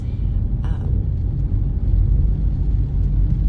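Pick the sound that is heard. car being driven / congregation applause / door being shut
car being driven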